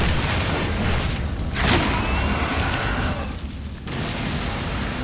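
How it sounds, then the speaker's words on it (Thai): An explosion in the video game Darksiders gives a loud, sustained booming rumble with whooshing bursts partway through, dense and continuous from start to finish, with no voices. "ระเบิด"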